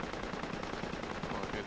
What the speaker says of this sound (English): I can hear him firing